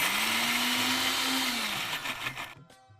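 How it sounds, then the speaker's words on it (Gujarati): A kitchen blender grinds a thick sweet corn mixture without water, a loud steady whirring motor with a droning hum that winds down and stops near the end. "એકવાર બધું ગ્રાઇન્ડ કરી લઈશું."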